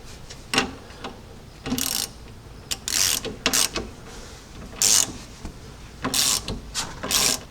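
Ratchet snugging a new castle nut onto a tie rod end: repeated bursts of fast metallic clicking, close and clear, in short uneven strokes with brief pauses between.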